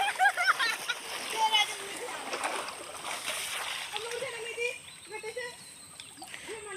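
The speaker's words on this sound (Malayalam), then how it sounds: "കണ്ടോ, ഞാനിപ്പോൾ വെള്ളത്തിൽ നിൽക്കുന്ന പുഴയുടെ നടുക്ക് കൂടെ നടന്നു പോയിട്ടാണ് ഇപ്പോൾ ഈ വീഡിയോ എടുക്കുന്നത്." Footsteps wading through a shallow, low-water river send up splashes and sloshing water, steady and close, with a faint stream flow behind and no clear talk.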